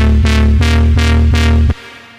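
A synth patch with ring modulation pitched at minus 8 plays four sustained, buzzy, metallic notes in a rising-and-falling pattern, loud and close, ending in a short fading tail.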